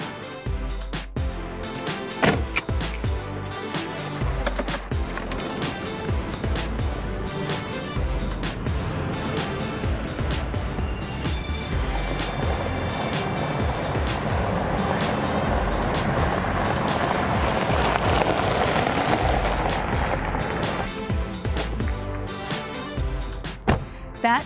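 A Lexus GX SUV drives along roads near a Long Island vineyard, its broadband road and engine noise loud and continuous with shifting tone, with no talking.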